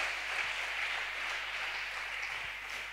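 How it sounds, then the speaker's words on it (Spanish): A congregation at a church service applauds in a steady, dense wash of clapping heard from a distance. "Dale ese aplauso que te dejaba ya a medias"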